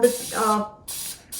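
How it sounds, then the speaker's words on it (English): Pam cooking spray hisses onto a metal muffin tin in two short, close bursts, just after a voice speaking briefly. "I'm just going to be spraying the muffin tin with Pam spray"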